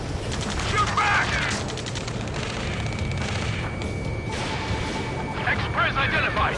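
Rapid bursts of gunfire and booming impacts in the Ace Combat 7: Skies Unknown video game, loud and dense, with radio chatter and shouted voices over the shooting.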